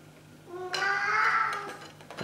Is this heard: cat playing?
yes